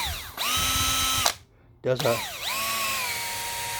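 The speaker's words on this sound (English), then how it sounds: "That's a paint mixer. I got it at Home Depot, I think it was. It goes in your drill." A cordless drill fitted with a paint mixer attachment whirs steadily, stops briefly, then spins back up with a rising pitch sweep before settling into a loud continuous hum, while a voice speaks a couple of words.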